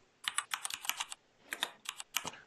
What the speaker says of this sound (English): and we can start typing